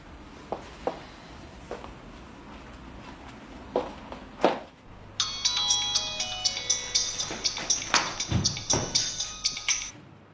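After a few scattered taps and knocks, a phone ringtone begins and rings on repeatedly in bright, regular pulses at moderate volume.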